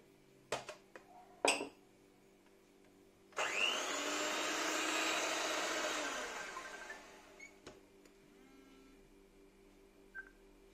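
An electric mixer whirs for about three seconds, mixing sugar, vanilla, eggs and lemon zest in a bowl, with sharp clinks of utensils on the bowl before and after.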